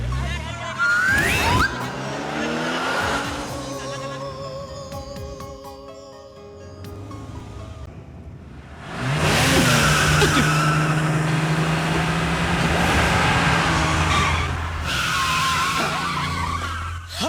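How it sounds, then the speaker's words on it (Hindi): A car brakes hard on a road with loud tire squeal and skidding, engine noise surging before and after, close and loud, with no speech over it. "तुमने टाइम पे ब्रेक मार दिया वरना एक्सीडेंट हो जाता"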